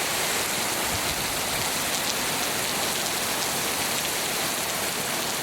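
Heavy rain pours down in Antalya, Turkey, in a dense, steady hiss, drumming on surfaces close by, with no voices or other sounds.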